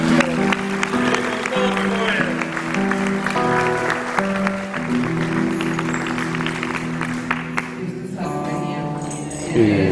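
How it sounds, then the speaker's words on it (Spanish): A congregation in a Spanish-language church applauds, a dense sustained clapping mixed with tonal voices or music that runs throughout and thins briefly near the end. "Un aplauso al Espíritu Santo."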